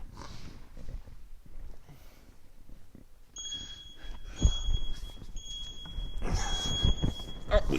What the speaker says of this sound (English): So we got some beeps now because I can't see the clock.